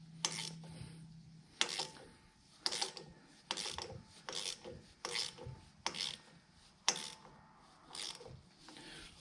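Ratchet wrench on a John Deere 410G front wheel seal job on the MFWD axle, clicking in short irregular bursts of sharp ratcheting and rasping, close and fairly quiet, with no talk.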